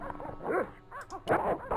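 Dogs in the Broken Sword: Shadow of the Templars video game giving a few short yips and whimpering barks, close and clear, in quick irregular bursts.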